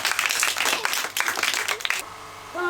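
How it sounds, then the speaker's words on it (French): An audience of children at an orphanage visit claps steadily for about two seconds, a dense, lively patter of hands that stops abruptly, leaving quiet room tone. "D'accord, applaudissez encore."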